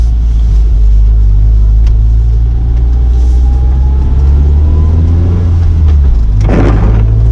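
A Lotus sports car cruising slowly with a passenger aboard, its engine a loud, steady low rumble heard from inside the cabin, with a brief rushing burst near the end; no voices.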